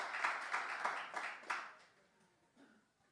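A church congregation claps in response during a sermon, a run of distinct rhythmic claps fairly close and moderate in volume, fading out after about a second and a half.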